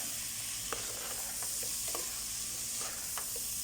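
Washed, strained raw rice is stirred and fried in a pressure cooker, giving a soft continuous sizzle with a few light scraping clicks from the spoon, fairly quiet and close.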